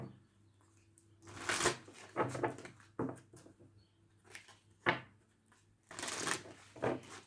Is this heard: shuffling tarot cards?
yes